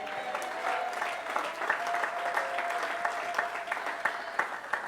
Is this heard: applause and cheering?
yes